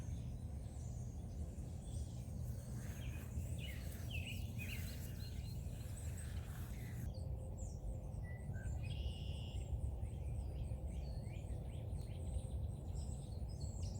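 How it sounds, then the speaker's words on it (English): Birds chirp faintly outdoors in a garden while bathing, with high, scattered calls over a steady low background hum. "Birds are taking a bath."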